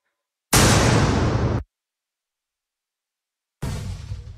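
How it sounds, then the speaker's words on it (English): Fireworks bursting in a rugby league video game at a grand final, heard as two loud, dense blasts, the first lasting about a second and the second starting after a silent gap and continuing to the end. "Spam the fireworks."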